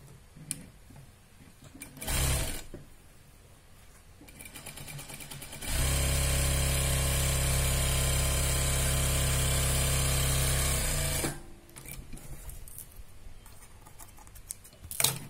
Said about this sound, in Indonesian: selain diagonal juga bisa menambahkan dengan jahitan kotak-kotak bebas